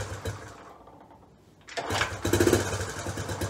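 A Honda CT Trail 90 motorcycle engine is cranked over with a weak, low chugging, then catches and runs loudly with a busy, sputtering rattle close by.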